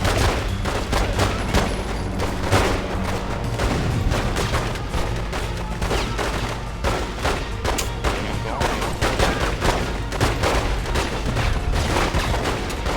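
Rapid pistol gunfire in The Godfather II on Xbox 360 rattles loud and dense, with bursts of shots layered over game effects.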